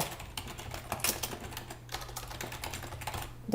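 Quick, light keystrokes patter on a computer keyboard in an irregular run, close and fairly soft, with no voices.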